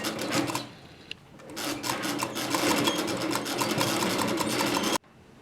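A sewing machine runs a shoulder seam on a kurti, a steady fast rattling stitch that pauses briefly near the start, then drives on continuously and close before stopping abruptly.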